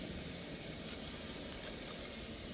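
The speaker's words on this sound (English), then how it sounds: "It's time to add the potatoes along with herbs and bay leaf" Potatoes, herbs and bay leaf frying with bacon in a pot, a steady close sizzle and crackle of fat running evenly throughout, soft and unbroken with one faint tick.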